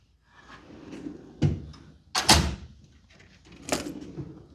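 A drawer on a US General 56-inch tool box slides open and shut, with a few sharp metallic clunks and rolling slide noises spread over several seconds, close and fairly loud.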